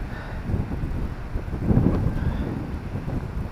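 Wind gusts at the coast near Overstrand, a loud low rushing buffet across the microphone that swells in the middle and stays constant, with no one talking.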